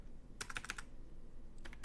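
A short burst of rapid keystrokes on a computer keyboard, then a few more taps after a pause, quiet and close with no talking.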